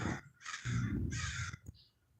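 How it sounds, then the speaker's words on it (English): Crows caw loudly nearby, with two long harsh calls followed by a short fainter one, heard outdoors with no talk over them. "I guess the crows second that."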